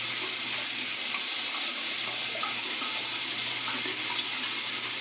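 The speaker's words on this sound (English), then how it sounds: "I'll add a little bit more water to my face." Water from a bathroom tap, used while shaving with a safety razor, runs and splashes in a steady, dense hiss throughout, close by and without talk.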